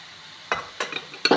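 Spices mixed into hot oil in a pan for palak bhaji, giving three short bursts of stirring and sizzle against a quiet kitchen background.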